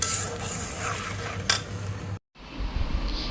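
Minced garlic sizzles in very hot oil while being stirred in a pan for a fish curry, a steady bright crackle with occasional scraping clinks, briefly cut off before resuming.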